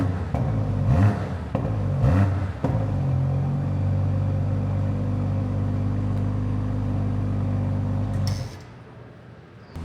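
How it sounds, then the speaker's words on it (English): A BMW 840i exhaust with dual valves open is revved: a couple of deep rising revs, then a sustained low droning rumble at steady engine speed, loud and near, dropping away at the end. "Give it a good rev. And now valve over. Yeah, now the valves are open,"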